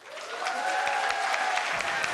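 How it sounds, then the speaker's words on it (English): An audience applauds after a NASA International Space Station crew event, a steady dense wash of many hands clapping, fairly loud and sustained throughout. "So many people looking on, smiles, applauding."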